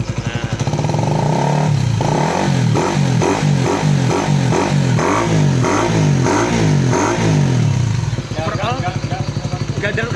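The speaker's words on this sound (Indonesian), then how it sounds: "Mesin sedikit dengung." A 200cc fuel-injected motorcycle engine with newly replaced gears runs close by with a rhythmic, pulsing thump and a faint steady hum, then shifts to a rougher clatter near the end.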